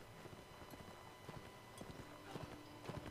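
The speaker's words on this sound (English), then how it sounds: "There's a horse following us, too." Horse hooves clip-clop in the Mount and Blade Warband video game, a faint, steady walking rhythm of soft, repeated hoof taps beneath a low ambient hum.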